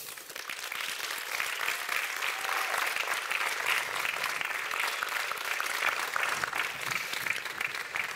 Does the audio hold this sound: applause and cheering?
yes